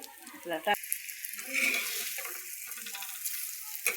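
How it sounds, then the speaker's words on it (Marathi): Large brinjal (eggplant) slices deep frying in hot oil, a steady bright sizzle running throughout with a few soft clinks and bursts near the start and end; a voice briefly speaks over it early on. "याला डीप फ्राय म्हणतात बघा."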